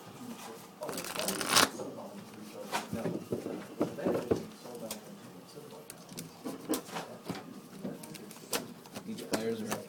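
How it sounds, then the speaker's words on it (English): Players shuffle Magic: The Gathering decks in a Legacy tournament final round, giving repeated close riffling and snapping card sounds in irregular bursts while people talk nearby. "Each players are shuffling their respective decks."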